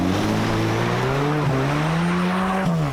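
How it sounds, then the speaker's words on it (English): A petrol 4WD on Maxxis RAZR tyres revs hard as the wheels spin in mud, a loud, steady engine drone with rising pitch held over three seconds, close to the microphone. "I'm going to spin my tyres a bit more because it's all in the top end horsepower"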